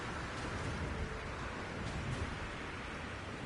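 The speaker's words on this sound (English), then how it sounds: "It is raining." Steady, dense rain pours across an alien planet in No Man's Sky, a loud continuous hiss with low rumbling beneath and no pauses, heard alone.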